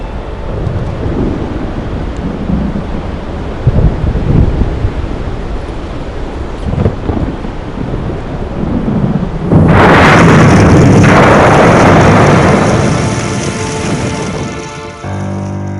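Thunder rolls through a cypress forest in Taiwan, deep rumbling under a wash of rain and wind, swelling into a loud crackling crash near the end.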